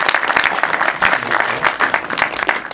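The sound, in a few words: applause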